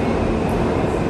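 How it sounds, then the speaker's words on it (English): Subway station ambience in New York, a dense, continuous rumble and roar of a passing train filling the space, loud and steady throughout with no voices. "We're going into the subway."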